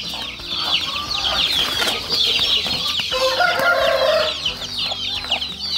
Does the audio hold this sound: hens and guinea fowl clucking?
yes